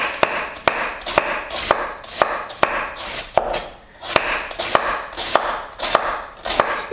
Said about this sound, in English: we're gonna slice this as thinly as we possibly can